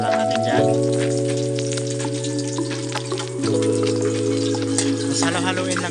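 Onions stirred and frying in a pan for a soy bean, snow cabbage and egg dish, a steady loud sizzle running throughout with a low sustained hum beneath and occasional scraping from stirring.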